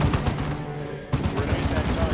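Gunfire in the Dawn of War II campaign, with dense bursts of shots and battle noise running loud throughout, a brief lull near the middle, and faint talk mixed underneath.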